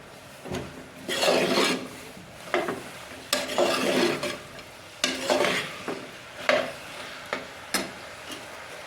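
A spoon stirring tomatoes and chillies into coconut rice in a pan, bursts of scraping and rubbing strokes repeating every second or so, close and moderately loud with a faint sizzle between.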